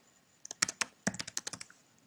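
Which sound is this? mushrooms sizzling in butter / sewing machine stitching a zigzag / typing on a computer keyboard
typing on a computer keyboard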